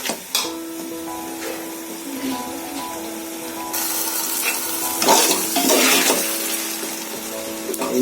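Ginger garlic paste sautés over low heat in a pan for turkey biryani, giving a steady close sizzle with intermittent stirring scrapes and a faint constant hum underneath, louder toward the middle.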